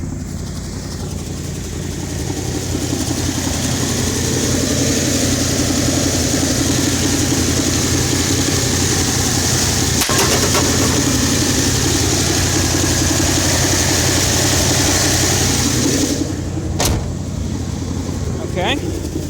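A cold-started Automixer 6 engine idles at a raised idle, a steady low rumble running continuously and fairly loud throughout, with a brief clunk partway through and a louder stir near the end.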